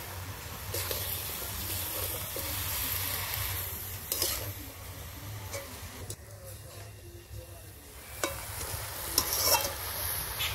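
Bottle gourd greens and spinach being stirred in a hot pan, continuous sizzling with repeated scraping strokes of a spatula, moderately quiet and close.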